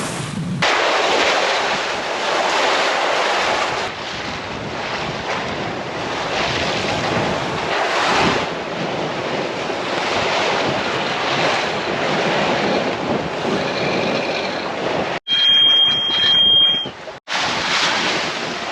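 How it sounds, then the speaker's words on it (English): Ocean waves and strong wind buffet a sailing yacht heading north into a northeast sea during a Caribbean passage, a loud continuous roar of surf and wind noise on the microphone with a short quieter break near the end. "We are fighting the waves. They're coming from the northeast and we're going north."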